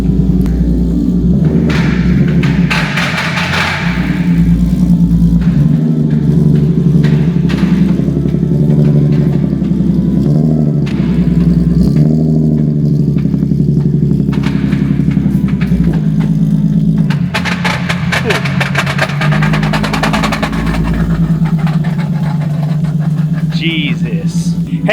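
Dull thumps and clunks sound from the broken transmission of a Nissan 370Z as it rolls, over a steady low engine rumble, with people talking nearby and occasional louder knocks.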